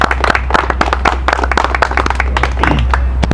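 Audience at a 60th-anniversary art fair celebration clapping in a dense, close burst of sharp hand claps with a steady low hum underneath and no cheering voices evident.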